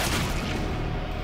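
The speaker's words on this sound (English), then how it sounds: "The other guy using the R8. Why does it sound like a paintball gun?" R8 revolver shot in CS:GO, a soft popping report like a paintball gun, brief and dense across the whole moment.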